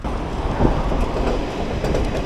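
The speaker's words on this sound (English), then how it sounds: "there's the train! Yes! Hell yeah, I was hoping to see that." A train rolls past on tracks running beside sand dunes near the ocean on the way to Shikanoshima Island in Japan, a loud, close, steady rumble with rhythmic wheel clatter and no voices.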